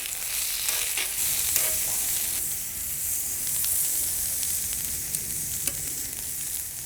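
Zucchini, red onions and asparagus sizzle on a very hot plancha over coals, a broad steady hiss with occasional sharp pops and clicks, close up and with no one talking.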